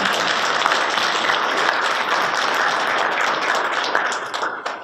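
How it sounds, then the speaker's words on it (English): An audience of county commissioners gives Senator Manchin a round of applause, dense steady clapping throughout that thins slightly near the end. "y'all give him a big round of applause"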